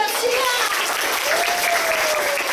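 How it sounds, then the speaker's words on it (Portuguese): An audience of children and adults at a storytelling event in Caatingueira applauds a teacher, a dense, loud burst of steady clapping with a few voices calling out over it. "Palmas para a"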